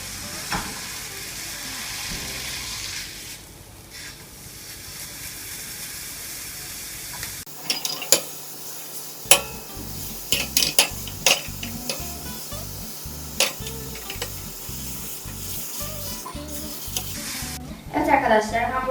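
Hamburger patties sizzle and crackle steadily in a hot pan, with occasional clinks and scraping of a utensil against the pan.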